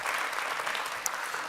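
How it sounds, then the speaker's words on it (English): Audience applause at a farm economics session of an agricultural expo, a steady wash of clapping from a crowd filling the whole short stretch with no voices over it. "Let's give them a round of applause before we get into the questions here"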